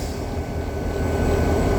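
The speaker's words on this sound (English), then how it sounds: "we're watching some shunting work" Freight train shunting in a rail yard near a Bluescope turnout southeast of Melbourne gives a steady low rumble of moving wagons, heard from a distance and swelling slightly as it goes.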